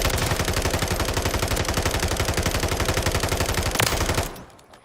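Full-auto SMG fire in Modern Warfare 3 with the trigger held down, a steady rapid stream of loud shots for about four seconds, then abruptly stopping.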